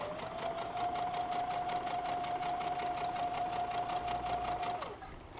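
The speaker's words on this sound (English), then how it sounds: "Then I'm going to again sew it, my 1/4 inch seam." A sewing machine runs a quarter-inch quilt seam in one continuous, even whir with a rapid stitching pulse, close and moderately loud, stopping just before the end.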